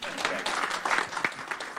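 Chamber of Commerce economic forecast audience in Exeter giving short, scattered applause, a few distinct claps blending under a speaking voice.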